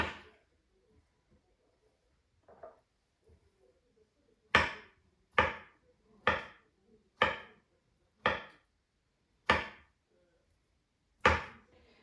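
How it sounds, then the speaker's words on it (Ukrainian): A kitchen knife slicing a whole avocado thinly into pieces for a Niçoise salad: a couple of faint early taps, then seven sharp, evenly spaced chops against a cutting board, close and crisp with nothing else heard. "Авокадо ніколи лишнім не буває, я його весь поріжу"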